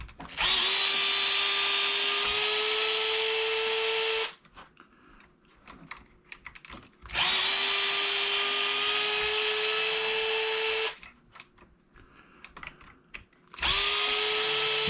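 A power tool drives out the shock tower bolts on a Traxxas Jato 4X4 VXL RC truck, running in three loud, rising whirring bursts of several seconds each, separated by pauses filled with faint clicks and handling noise.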